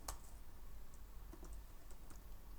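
Quiet, rapid clicking of computer keyboard keys as code is typed, irregular taps in short bursts, close and soft.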